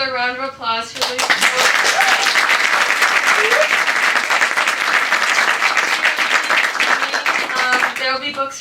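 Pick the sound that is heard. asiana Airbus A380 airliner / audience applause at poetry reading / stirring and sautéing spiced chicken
audience applause at poetry reading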